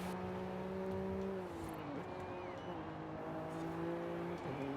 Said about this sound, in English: I can still hear the supercharger.